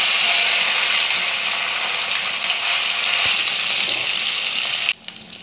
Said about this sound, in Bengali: মাছটা এবার ছাড়বো আস্তে আস্তে, নাহলে তেলটা ছিটকে গায়ে চলে আসবে।